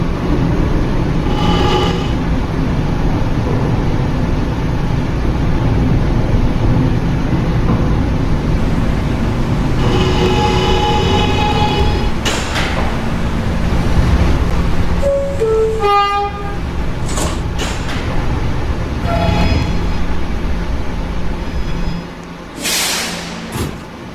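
An R211A subway train on the E line pulls into its terminal, a steady loud rumble of wheels and car noise running throughout, with a brief tonal horn or signal chime near the middle and a sharp hiss near the end.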